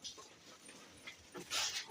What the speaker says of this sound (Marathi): इथे एक कुत्रा आहे ब्लॅक कलरचा